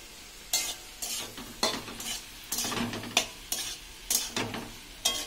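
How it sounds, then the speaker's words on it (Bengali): Food cooks in a kitchen pan, with a low sizzle beneath regular bursts of scraping and clattering as a utensil stirs, roughly one stroke every half second, close by and without voices. "আর এদিকে মা রান্না বান্না করছে"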